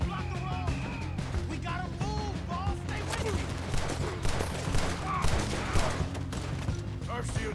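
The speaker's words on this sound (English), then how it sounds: "I'm emptying the clip on these guys." Sustained gunfire in the western game Red Dead Redemption 2 as a clip is emptied on enemies, rapid overlapping shots crackling loudly throughout, with voices mixed in.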